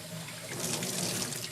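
Hot water runs from a kitchen tap in a steady, close rushing stream, gathered for making espresso fudge ice cream.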